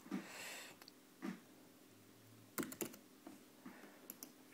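Quiet keystrokes tap on a Mac computer keyboard as a new password is typed in, a few scattered clicks and short bursts with pauses between them.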